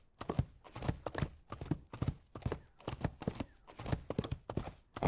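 Horse hooves clip-clop briskly and evenly on hard ground in Cowboy Life Simulator, a close, steady trotting rhythm of sharp knocks with no voices.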